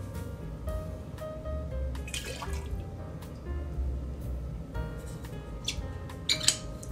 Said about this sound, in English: I am going to pour in 2 1/2 ounces of Russell's Reserve Single Barrel